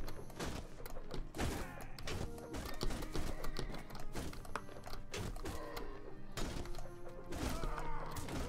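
Hooves of veteran horse archers in the Warband game, a dense, continuous clatter of many galloping horses mixed with thuds and impacts of a busy battle.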